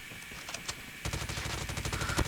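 A QQ9 gun is hip-fired in a ranked shooter video game, with a few scattered shots followed by a rapid automatic burst of crackling gunfire, moderately loud and without talk.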